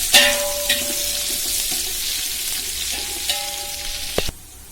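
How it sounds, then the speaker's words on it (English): Five sliced medium onions fry in a pan with a continuous close sizzle and hiss, a few ringing metallic clinks from the utensil, and a sharp knock near the end as the sizzle drops away; no talk. "I'm putting in 5 onions which I sliced, 5 medium sized onions, and I'm going to fry it till it gets nice and brown."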